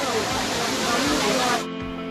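Bee Falls, a waterfall at Pachmarhi dropping about 150 feet from a hillside, gives a steady, loud, close roar of rushing water that eases off sharply near the end.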